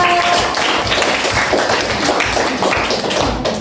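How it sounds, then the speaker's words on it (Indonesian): Schoolchildren in a classroom clap together for three classmates, a dense, continuous patter of many hands that stays loud and even throughout. "Tepuk tangan untuk kalian tiga."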